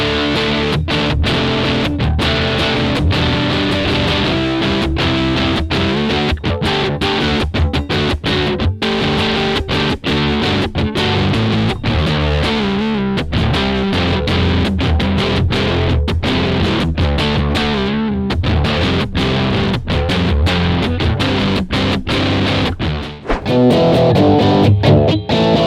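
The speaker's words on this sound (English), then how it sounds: "It sounds great if you're just trying to get like some weird, unique kind of distortion." Electric guitar played through a Tascam GS-30D amp simulator with heavy distortion, thick and buzzy with sustained chords and choppy strummed notes, loud and continuous with no voices.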